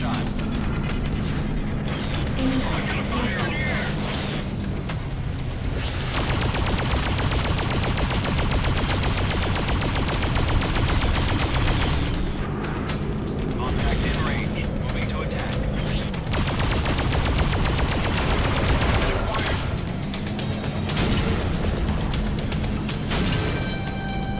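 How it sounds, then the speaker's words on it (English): Continuous heavy weapon fire in the Freelancer space sim as a ship attacks a battleship, a dense, loud barrage of rapid shots and blasts with droning engine sound that barely lets up. "I am going to blow up a battleship"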